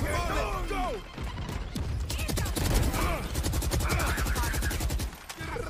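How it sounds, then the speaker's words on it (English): Rapid bursts of gunfire crackle in Valorant, dense rattling shots layered with louder shotgun blasts, close and loud alongside other game effects and voices talking in the background. "Three shots with my shotty."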